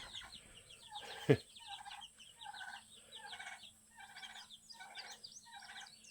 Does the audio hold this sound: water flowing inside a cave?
no